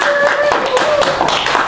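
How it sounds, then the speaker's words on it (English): A church congregation claps during a sermon, sharp hand claps over a lively background of voices and sustained tones, loud and close throughout. "Can we just give God a round of applause?"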